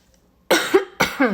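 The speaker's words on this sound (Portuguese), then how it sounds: "tô tossindo ainda, tô muito resfriada" Two sharp, close coughs in quick succession, each breaking off into a rough, raspy tail.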